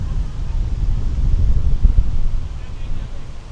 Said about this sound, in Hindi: हवाएं कुछ ज़्यादा ही तेज़ हो गई हैं यार।